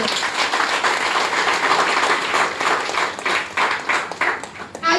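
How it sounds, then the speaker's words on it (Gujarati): Sustained applause from an audience at a women's day lifestyle event, dense and steady for several seconds, rising and falling slightly in waves toward the end. "તો એકવાર એમના માટે જોરદાર તાળી દેજો"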